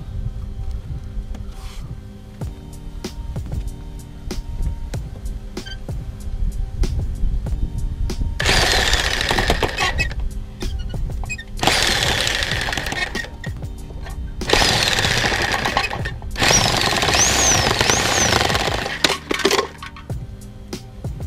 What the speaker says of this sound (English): 8 1/2 inch piece on our 24 inch PVC. And we're gonna cut that also.